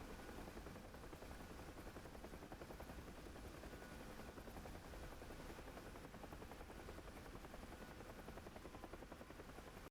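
Helicopter in the DCS World flight combat game, a dense continuous rotor chop and turbine roar that holds loud and steady throughout with no pauses.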